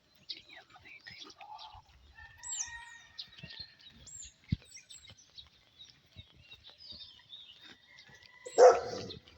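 A large dog barks on a mountain walk at dawn amid chirping birds, the bark coming as a sharp, fairly close burst near the end over quieter rustling and scattered outdoor sounds.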